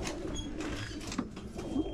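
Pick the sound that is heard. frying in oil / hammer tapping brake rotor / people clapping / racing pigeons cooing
racing pigeons cooing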